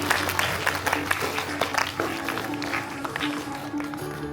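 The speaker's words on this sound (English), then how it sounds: "All of you clap loudly." Audience at a school Founders Day celebration clapping in a sustained burst of applause, fairly close and lively, with voices talking over it.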